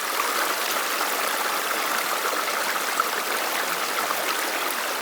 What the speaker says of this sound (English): It's obviously just a natural spring coming out of the side of the hill.